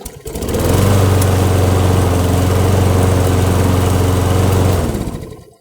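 Old Briggs & Stratton lawnmower engine catching after a short rise and then running loudly at a steady idle-like chug for several seconds before cutting off.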